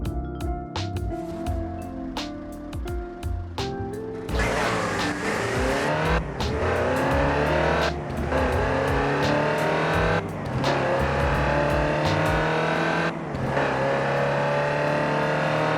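A Land Rover Type 3 drives in Forza Horizon 4, its engine revving and shifting through gears with steady, loud acceleration and a brief squeal of tires, heard alone without voices.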